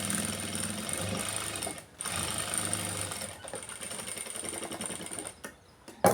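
A sewing machine stitches saree cloth for a hand blouse with a steady close whirring rattle that runs continuously, pausing briefly twice before starting up again.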